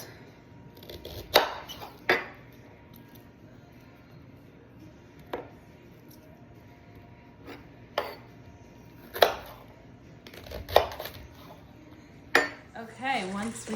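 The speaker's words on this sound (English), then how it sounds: "once we have all of our Brussels sprouts trimmed and cut in half" A kitchen knife trims and halves Brussels sprouts on a cutting board, producing a series of sharp, well-spaced chops and clinks, roughly ten distinct cuts, fairly close and clear over a quiet room.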